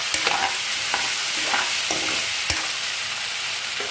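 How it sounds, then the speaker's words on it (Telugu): A spoon scrapes and stirs salted, turmeric-dusted potato fry in a hot pan, with repeated rhythmic scraping strokes over a steady background sizzle and no talking. "ఇప్పుడు కలుపుకోండి."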